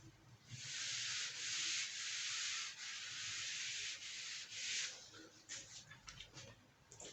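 An eraser or duster rubs writing off a board during a maths lesson on matrices, a series of raspy back-and-forth strokes, fairly close, first long and steady, then shorter and choppier.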